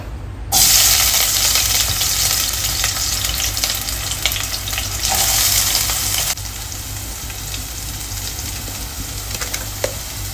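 Potato and green vegetables dropped into a hot pan, bursting into loud, close sizzling frying that fades gradually to a steadier, softer crackle with no talking.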